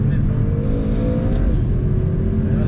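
A BMW M5 with around 700 hp pulling hard in first gear, a loud steady engine roar with a rising whine heard from inside the cabin, continuous and close.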